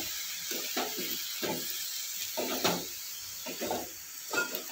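Fenugreek leaves sautéing in hot oil in a pan for a Marathi methi bhaji, a steady close sizzle with soft stirring scrapes rising in short bursts every second or so.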